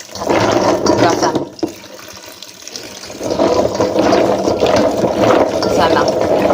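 Jackfruit seeds are washed in water, with steady splashing and running water that fills the clip, dips briefly near the middle, then returns loudly.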